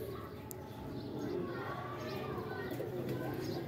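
Soft pigeon cooing repeats under a steady wash of background chatter and distant children's voices.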